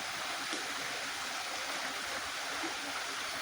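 A dirty river flows in a steady, even rush of water, a continuous broadband wash with no voices over it.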